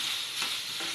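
Prawns coated in turmeric and salt hit a hot pan and fry with a steady, close sizzle that swells briefly as they are moved around.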